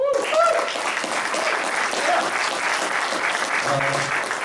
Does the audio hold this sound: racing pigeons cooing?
no